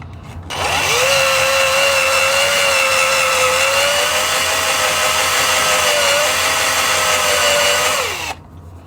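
A drill with a small bit bores into the end grain of a fresh piece of wood on a WEN 3424T mini wood lathe. A steady, loud whine starts abruptly, holds for about eight seconds, then cuts off.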